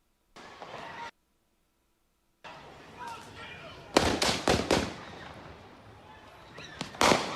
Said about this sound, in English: There are gunshots all around him.